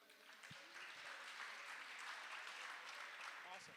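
An audience applauds at a community event on lead-safe healthy homes with a steady spread of clapping lasting several seconds, moderately distant, with a voice faintly over it.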